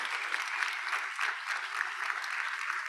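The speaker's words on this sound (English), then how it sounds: "Let's give a round of applause to all 10 of our presenters." Applause for ten student presenters at a competition, steady, dense clapping from an audience in a hall, continuing evenly throughout.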